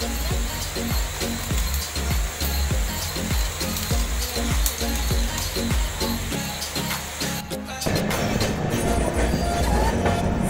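A passenger train rolls into Mariani station. Loud, steady clickety-clack from the wheels runs throughout, and the rumble shifts and brightens near the end as the train slows.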